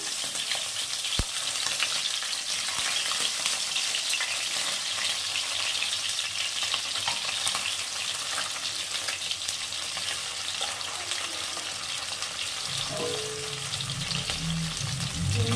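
Singhi fish sizzle steadily in hot oil in a pan over a low gas flame. The fry is a continuous, even crackle, with a few brief clinks near the end.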